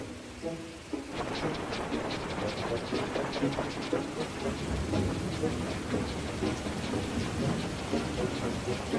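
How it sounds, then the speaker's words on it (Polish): Steady rain pours down in a cartoon, a dense hiss of drops with low rumbling underneath, continuous and fairly close. "deszcz zaczął padać"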